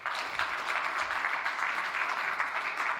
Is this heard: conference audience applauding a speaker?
yes